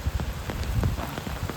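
Heavy rain pours steadily onto a flooded paddy field during rice transplanting, a dense, continuous hiss with scattered close drops pattering, loud and unbroken with no voices.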